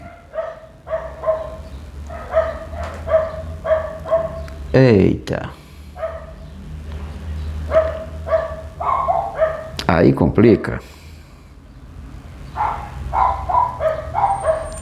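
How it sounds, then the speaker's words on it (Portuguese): A dog barks repeatedly in short bursts, with a few sharper yelps, while a person talks over it. "Silêncio, cachorro. Silêncio, cachorro."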